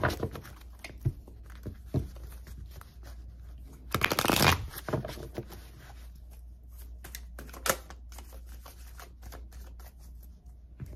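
Tarot cards being shuffled by hand, a quick ruffling burst near the middle amid scattered soft taps and slides of cards, close and quiet with no voices.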